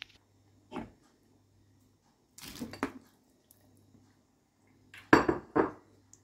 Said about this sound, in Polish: I dodajemy pomidory.